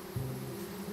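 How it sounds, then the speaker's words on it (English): Bees buzz in the video game Psychonauts 2, a steady, continuous low drone that holds at moderate volume throughout with no voices over it. "Oh, there's bees."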